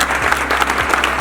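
Audience applause at an event honouring an Arjuna Award-winning athlete meeting district players, a short loud burst of clapping with a low steady hum underneath.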